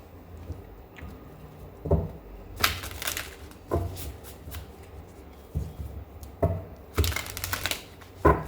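Oracle cards being shuffled in several quick riffling bursts separated by short pauses, close and crisp, with soft handling noises in between.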